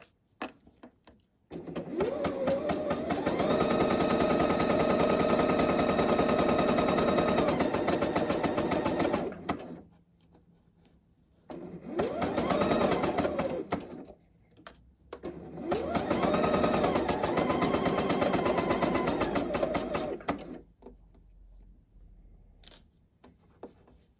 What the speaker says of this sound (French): Et je couds le contour de mon sac de poche.